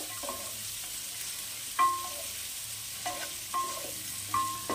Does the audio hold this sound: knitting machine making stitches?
no